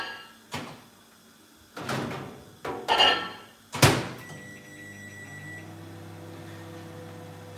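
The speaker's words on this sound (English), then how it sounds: "I'm going to put this in the microwave and we'll see what happens. I will microwave it for about 3 minutes." A microwave oven being loaded with a sorghum porridge mix for Hausa koko: several door and panel thuds with short beeps, then a steady low humming drone as it starts heating.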